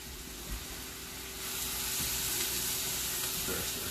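Chicken and dumplings cooking in a pot, stirred with a steady scraping, bubbling sizzle that swells and stays loud and close, with no talking.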